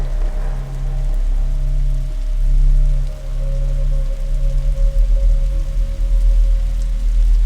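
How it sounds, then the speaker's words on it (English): Steady rain falls in the video game The Signifier, a constant dense patter over a low droning hum that stays loud and even throughout, with no speech. "Is that rain?"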